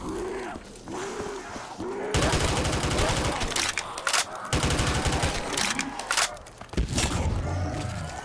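An AK rifle fires in a zombies video game, rapid sustained bursts of automatic gunshots that break off and resume, loud and close over low game sounds.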